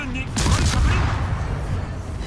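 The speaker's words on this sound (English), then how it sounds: "And now we can just finish him off with the guns." Ship's guns firing in a naval warship battle game, the destroyer Umikaze finishing off an enemy; a heavy booming salvo with rumbling echoes, loud and close, fading into a low roar.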